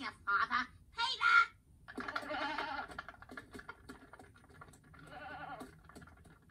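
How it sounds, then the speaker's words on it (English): Goats bleat in an animated comedy scene, several wavering, nasal calls overlapping one another at close to middle distance, mixed with animal noise and some background voices. "what the hell are the goats doing here?"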